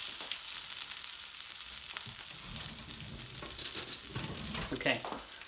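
Ginger paste sizzles and fries in a hot pan for a lamb biryani, a steady close crackle that flares louder with stirring near the end, with no talk.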